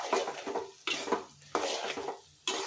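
Potato and tomato curry with chilli powder being stirred in a pan, a spoon scraping and clattering against metal in four distinct bursts separated by brief pauses, with a faint sizzle underneath.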